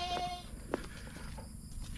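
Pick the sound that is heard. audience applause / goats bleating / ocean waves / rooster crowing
goats bleating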